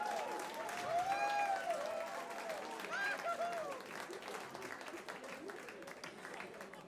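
A crowd at the final of a Low German band contest applauds steadily, the clapping swelling early then easing, with voices talking over and under it.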